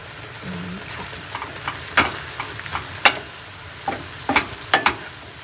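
Napa cabbage with egg stir-fried in a pan: a continuous low sizzle broken by several sharp scrapes and clacks of the spatula against the pan, spaced irregularly.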